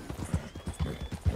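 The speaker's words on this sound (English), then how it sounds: "Hey, that's a nice looking horse." Horse hooves clip-clop in Red Dead Redemption 2, a quick uneven run of close hoofbeats over a soft game background, with no speech.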